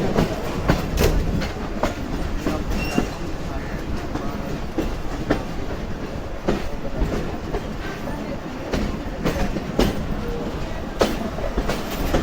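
Allama Iqbal Express passenger train running between Sialkot and Lahore, close to Lahore, with steady wheel rumble and rhythmic clickety-clack of rail joints, continuous and near throughout, with sharp periodic clicks.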